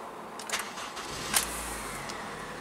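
A 2007 Honda Civic engine starting, with a brief cranking burst followed by a low steady idle, fairly quiet and without speech.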